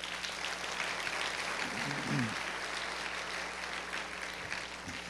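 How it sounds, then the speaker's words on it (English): An audience claps together at a lecture, a dense, steady wash of applause lasting the whole stretch at moderate distance, with a faint voice briefly underneath. "If you agree with that, could you give a hand clap?"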